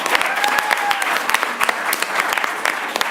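A crowd at a main stage show claps for itself, sustained applause with distinct sharp individual claps standing out close by, and a voice carrying faintly underneath.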